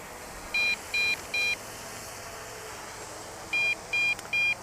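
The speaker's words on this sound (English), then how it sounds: "the transmitter is beeping now because we're at half of the battery" Two sets of three short, high electronic beeps from an MJX Bugs 2 SE GPS drone transmitter signalling half battery, evenly spaced, separated by a pause, over a steady background hiss.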